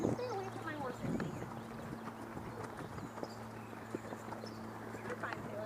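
Horse hooves clip-clop in a steady walking rhythm at moderate distance during a horseback ride, with a low steady hum and people talking over the hoofbeats.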